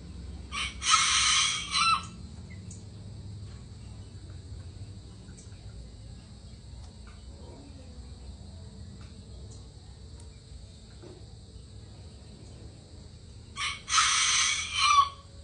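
A Serama chicken crows in two loud bursts near the start and end, with low clucking and faint background noise between, no talking.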